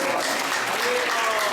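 Audience at an ISKCON Sunday class in Atlanta applauding a devotee, a dense, steady wash of many hands clapping together, loud and continuous with a little murmur underneath.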